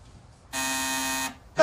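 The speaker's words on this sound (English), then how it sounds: "try the buzzer for me." An electric buzzer sounds once in a steady, harsh tone lasting under a second, close and loud, followed by the start of another sharp sound at the end.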